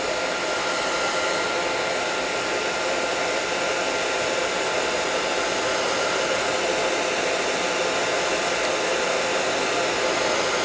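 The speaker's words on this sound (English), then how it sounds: "I'm just going to hit it with my hairdryer one more time" A handheld hairdryer blows steadily on a watercolor painting of a snowy landscape, a loud, continuous broadband whoosh with even volume throughout, close to the mic, and no talking.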